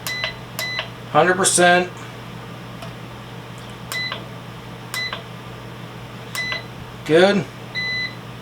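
Beeps from an Anvil Foundry 10.5-gallon brewing system on 120 volts as the power comes on: several short electronic tones spaced across the clip, mixed with brief speech.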